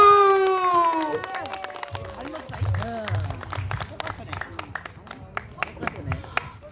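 Audience clapping and cheering at an outdoor village festival as a singer is welcomed on stage, scattered claps over crowd noise following a musical sting, with voices in the crowd.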